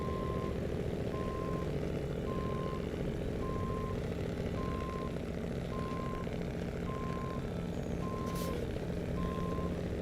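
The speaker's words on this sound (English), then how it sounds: "I don't know how many other vehicles have a backup beep like that" A truck in SnowRunner reverses with a steady backup beeper pulsing evenly about twice a second over a loud, rumbling diesel engine, sustained throughout with no talk.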